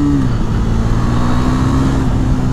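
A 2018 KTM Duke 390 single-cylinder motorcycle pulls in first gear at low to mid revs, giving a loud, steady, close engine drone.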